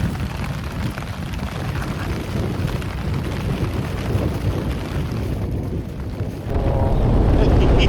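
Strong wind buffets the microphone on an exposed mountain summit in the Black Mountains, a loud continuous roar and rumble that surges louder near the end, with no speech.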